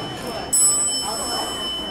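A Montgomery traction elevator at the Nordstrom store in Tysons Corner Center, Virginia, announces its arrival. A clear, bright chime strikes once about half a second in and rings on steadily over quiet store ambience.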